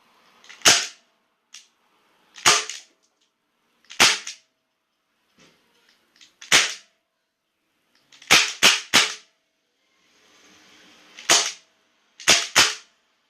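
A gas airsoft gun fires a series of sharp, loud cracks close by. The shots are single at first, then come in quick clusters of two and three, with faint clicks and hissing gas between them.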